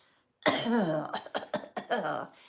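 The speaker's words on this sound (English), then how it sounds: "clearing my throat" A close, harsh throat clearing followed by a series of short rough coughs and hacks in uneven bursts.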